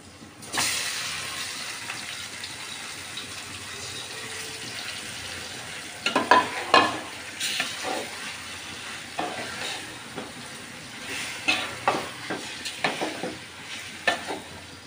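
Spice-marinated meat frying with browned onions in a pan sizzles steadily, with scraping stirs and clatter breaking in repeatedly through the second half, no voices over it.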